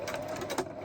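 A sewing machine stitches through thick throw fabric for a poncho, giving quick, close rhythmic needle thumps in short bursts with a faint mechanical whir underneath.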